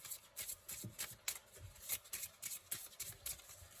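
A deck of feather oracle cards is shuffled by hand indoors, giving a quiet, close series of rapid riffling bursts in an uneven rhythm, with no voices.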